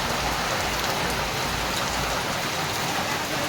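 Heavy rain pours down during a trip, a dense, unbroken roar of drops that stays loud and even throughout, with no voices.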